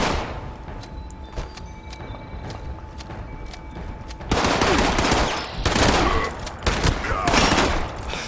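A shotgun fires in the video game Fallout 76, with a loud burst of blasts and heavy rattling that fills the second half, over a dense game soundscape of clanks and ambient noise.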